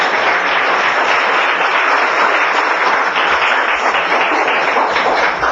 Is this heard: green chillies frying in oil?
no